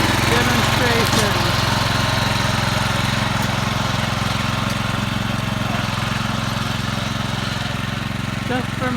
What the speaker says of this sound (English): here's the brush cutter machine